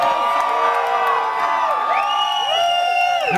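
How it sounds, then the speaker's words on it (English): Concert crowd at a folk-rock band's show cheering and whooping loudly, a dense, sustained roar of voices with high shouts rising over it and no pause throughout. "Give yourselves a fucking round of applause."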